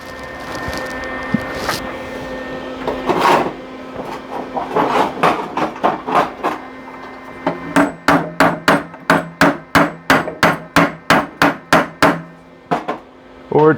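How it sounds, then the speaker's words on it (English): Loud, close hammer strikes, scattered at first then settling into a steady run of evenly spaced blows on a resonant surface. "Or it's telling me to get a hammer."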